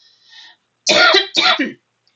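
Two harsh throat-clearing coughs in quick succession, close and loud, preceded by a faint breathy sound.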